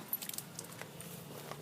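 Keys jangling near a 2010 Honda Stateline motorcycle, a quick run of light metallic clinks and rattles over a low steady hum, fairly close but soft.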